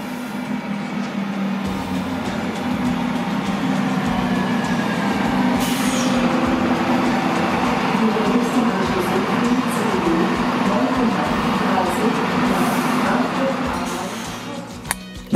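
Trains at Erfurt main station rumble and roll past in a continuous loud wash of rail noise, with a brief squeal near the middle and no talking.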